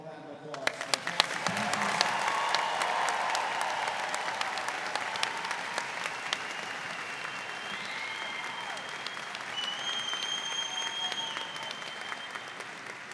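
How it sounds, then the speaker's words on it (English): Audience at a high school graduation ceremony applauds steadily for a long stretch, a dense sustained clapping with a few sharp individual claps near the start and occasional faint whistles, holding at an even level throughout. "Can I have one more round of applause?"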